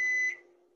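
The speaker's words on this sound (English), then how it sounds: "It's your smoke detector." A smoke detector gives a single shrill electronic beep that holds steady and then fades, with the start of the next beep cutting in at the end.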